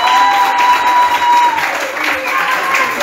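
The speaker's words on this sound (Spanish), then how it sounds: "Ahora sí, fuerte el aplauso para Mati Bravo." Applause and cheering from a Montevideo Carnaval crowd for a performer, a steady, loud wash of clapping and voices with faint whistles throughout.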